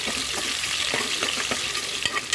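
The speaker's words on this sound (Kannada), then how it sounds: "ಇವಾಗ ಈರುಳ್ಳಿ ಹಾಕೊತಾ ಇದ್ದೀನಿ ಒಂದು ಈರುಳ್ಳಿ ಕಟ್ ಮಾಡಿ ಇಟ್ಕೊಂಡಿದ್ದೆ ಈರುಳ್ಳಿ ಹಾಕ್ಕೊತಾ ಇದ್ದೀನಿ" Chopped onion frying in hot oil with mustard seeds, a steady close sizzle broken by repeated soft scraping and stirring strokes in the pan, with no voices.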